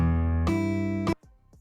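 Two sustained bass guitar notes from a tab line ring up close, one after the other, and the second cuts off sharply into quiet string noise.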